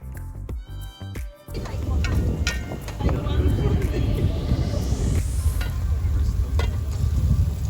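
Chef Sharif cooks a potato dish seasoned with garlic, pepper and cumin aboard a felucca on the Nile: a brief clatter gives way to steady frying sizzle and stirring, mixed with wind noise throughout.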